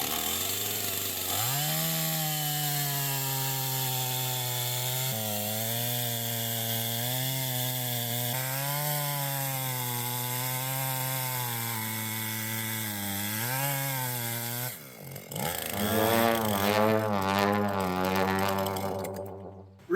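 A chainsaw revs and drones steadily at close range, its pitch wavering as it bites into a log, then surges louder and rougher near the end as the cut closes and binds the chain.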